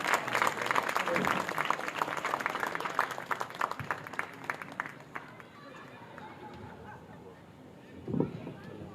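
At an outdoor poetry gathering on a Ram Leela ground, a crowd gives loud, dense applause that thins out after about five seconds, with a voice speaking near the end.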